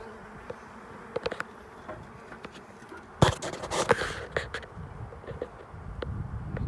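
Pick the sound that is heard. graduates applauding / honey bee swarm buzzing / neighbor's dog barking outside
honey bee swarm buzzing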